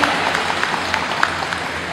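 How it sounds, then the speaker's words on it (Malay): A hall audience claps in a dense, steady wash of applause for Sabah's most senior civil servant at the opening ceremony of a Kee family gathering, lasting a couple of seconds at an even level with a few sharper claps. "Kita berikan tepukan kepada beliau, penjawat awam tertinggi di Sabah."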